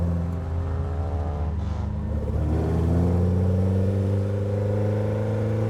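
An MGA Twin Cam race car engine fitted with performance parts revs up, a loud, close, buzzing drone that climbs steadily in pitch over several seconds with no talking.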